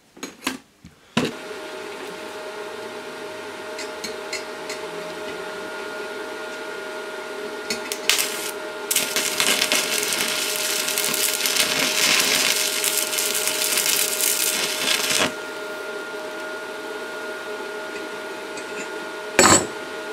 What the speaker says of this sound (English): what I'm going to do, obviously, is weld those hooks into position